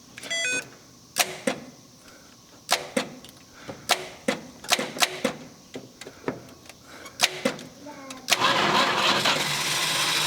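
A 1971 Plymouth Roadrunner, sitting unused for 35 years, cranks in a series of sharp, irregular bursts that end as the engine catches and settles into a loud, steady run.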